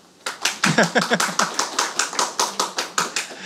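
Clapping at a Korean metalworkers' union political school lecture, a sparse, evenly paced series of about fourteen sharp, separate claps filling the room, like a small group clapping in unison.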